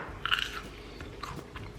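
Someone bites into crunchy air-fried fries, over-cooked until crisp, with one sharp crunch followed by quieter chewing, close and alone.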